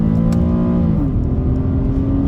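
An Infiniti G37's V6 engine revs while driving, a loud, close harmonic drone that climbs, drops sharply near the middle as the gear shifts, then settles into a steadier lower whine.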